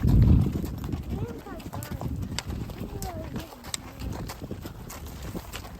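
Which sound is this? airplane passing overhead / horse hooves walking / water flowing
horse hooves walking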